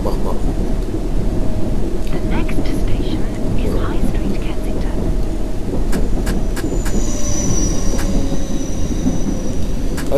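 A London Underground train in the World of Subways game rolls toward High Street Kensington station with a steady, loud rumble and rattle, a faint squeal running through it and brief clicks later.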